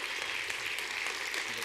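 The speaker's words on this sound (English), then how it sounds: "Big applause otra vez." An audience at a talks event applauds steadily, a dense even patter of many hands clapping throughout the short stretch.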